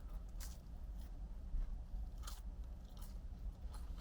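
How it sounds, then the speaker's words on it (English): Close-up bites into crunchy skin-on Wendy's French fries, with a few sharp crunches spread over several seconds amid soft chewing and no talking. "Nice crunch to them"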